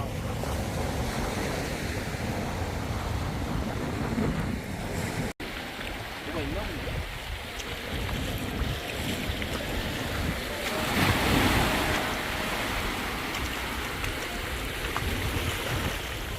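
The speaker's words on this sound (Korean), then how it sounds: "그 바람 겁나게 분다요" Strong wind roars across the microphone with steady surf washing in at Dadaepo beach in Busan, a continuous loud rush of wind and waves with a brief dropout midway and faint voices in the background.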